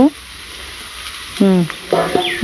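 Food frying in a hot village cooking pot, stirred with a metal spatula, gives a steady close hiss, with a few scraping knocks and brief voice-like sounds near the end.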